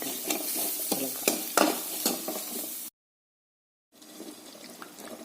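Chickpea curry (kadala curry) being stirred in a pan with spice powders, a spoon scraping and clattering over a steady oily sizzle, loud and close, with a second of silence partway before the sizzling resumes.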